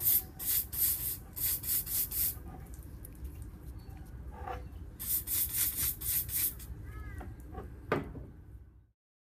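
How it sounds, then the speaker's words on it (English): An Inox lubricant can sprays onto skateboard bearings in several short hissing bursts, close and fairly loud, with brief pauses between them and a few clicks and handling knocks near the end. "spray each one of these with your can of inox"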